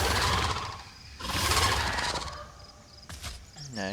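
Friendly call of an Austroraptor in The Isle, two broad squawking bursts followed by a short chirping trill at the end, moderately loud and bird-like, with no voices.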